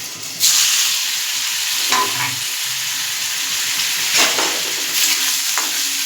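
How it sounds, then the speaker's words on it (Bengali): Paneer frying in white oil in a wok, a steady close sizzle with bright hiss and occasional stirring scrapes, continuous for several seconds with no voices. "এবার আমি এই পনিরটা ভেজে নেব"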